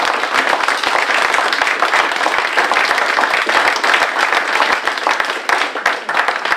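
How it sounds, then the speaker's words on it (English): A room full of people applauds the candidates at a Port Orford City Council candidate forum in the public library, loud dense clapping sustained throughout and close to the listener. "let's give a round of applause to the candidates"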